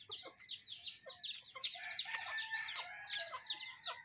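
Chickens cluck and a rooster crows repeatedly close by, busy overlapping calls forming a lively farmyard chorus over a low background rumble, with no talking.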